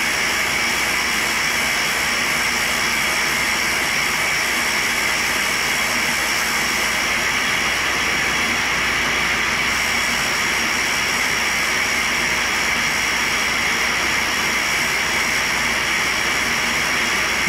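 Six-inch diamond wheel sawing through a damaged carbide endmill, producing a constant loud, bright grinding whine that holds steady throughout with no pauses or voices.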